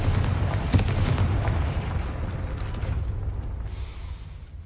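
A Confringo fire spell bursts in Hogwarts Legacy beside a gate, making a loud booming explosion that rumbles and slowly fades over a few seconds, with no talking.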